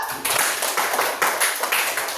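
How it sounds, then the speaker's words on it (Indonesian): Children clap their hands together in a classroom, a dense rhythmic patter of many small hands in quick regular bursts, close and lively with no talking over it. "tepuk tangan dulu"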